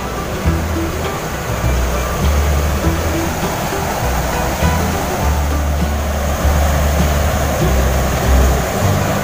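A flooded river rushing hard, a loud, dense, steady roar of churning water that continues without a break for several seconds.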